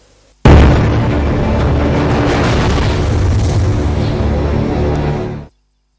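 Twin bomb explosions captured in news footage, heard as a loud, sustained roaring blast of broadband noise that starts abruptly and rumbles on for about five seconds before cutting off, with no talk.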